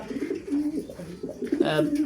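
Racing pigeons, a newly paired male and female, coo in low, throaty, repeated calls, fairly close and steady throughout.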